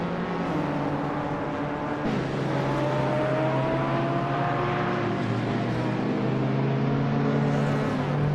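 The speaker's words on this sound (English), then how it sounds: "Buart is piloting a 1978 BMW M1, a classic muscle car with sleek lines" Engines of 1978 BMW M1 race cars roar continuously in a video game race, several cars close together with steady, rising and falling engine tones and no talk.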